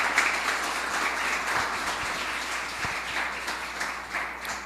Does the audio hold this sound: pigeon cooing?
no